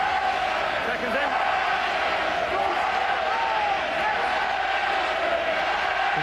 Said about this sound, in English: And the crowd has come to life at the RDS.